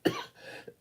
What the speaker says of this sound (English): I just have this weird cough going on